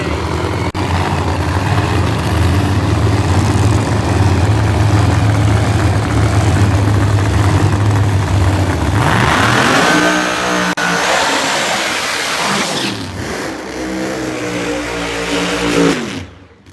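Drag racing cars at Summit Motorsports Park in an NMCA session, including the El Murrow Mercury, a loud idling rumble building into a roaring launch with rising revs and gear changes, then fading, with a commentator talking over it.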